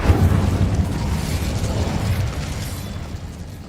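An Incendio fire spell cast in Hogwarts Legacy erupts as a dense, roaring burst with a heavy low rumble, then holds a steady crackling roar for several seconds before easing slightly.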